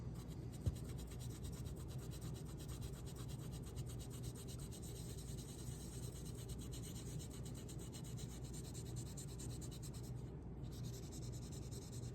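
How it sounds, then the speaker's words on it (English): Dry erase marker rubbed over ink on a Pokémon card, a faint, close, continuous squeaky scratching and rubbing that runs steadily throughout with no talking. "the ink is now covered with dry erase marker"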